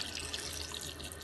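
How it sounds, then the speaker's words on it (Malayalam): Water runs steadily into a pressure cooker holding chickpeas, giving a short, soft, even pour heard up close with no talk. "ഇതിലേക്ക് ഈ കടല നല്ലോണം മുങ്ങിക്കിടക്കുന്ന പാകത്തിന് വെള്ളം ഒഴിച്ചു കൊടുക്കാം"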